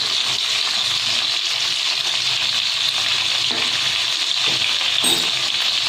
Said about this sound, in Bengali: এবার ভালোভাবে আমি পটলটা ভেজে নেব।